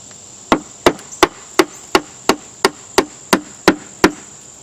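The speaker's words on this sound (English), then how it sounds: "If they won't come out, just hammer them in." A hammer drives nails into wood in an even, steady series of about eleven sharp blows, close and loud, with a faint steady hum behind.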